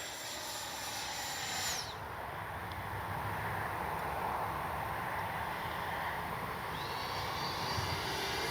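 An FMS Integral 80mm RC jet plane flies overhead outdoors, giving a continuous loud whooshing whine with rising and falling pitch sweeps as it passes, and no voices.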